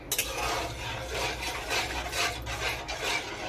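A utensil scrapes and rubs through stiff semolina dough in a pot, giving a close, steady rasping with soft rhythmic strokes and no voices.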